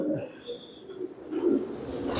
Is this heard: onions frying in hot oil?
no